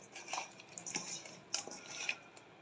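Hilsa fish is mixed by hand in a bowl with turmeric, chili, coriander powder and a little oil, giving soft, scattered clinks and light scraping against the dish.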